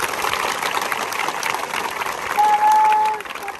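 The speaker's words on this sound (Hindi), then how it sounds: "और एक बार सभी लोग एक बार जोरदार ताली बजा दीजिए।" A crowd at a physical training academy claps loudly and continuously after being called on to applaud, a dense steady wash of hands with a brief whistle-like tone near the end.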